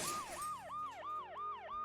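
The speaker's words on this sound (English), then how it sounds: "The noise the ambulance makes will cover the sound of the glass breaking." Ambulance siren in the video game Dead Synchronicity, a rapid wailing yelp sweeping up and down about six times in under two seconds, steady and moderately loud with no voices.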